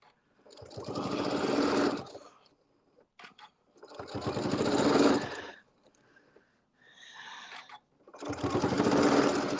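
Sewing machine stitching right along a fabric edge with a narrow seam of an eighth inch or less, running in three steady bursts separated by short pauses.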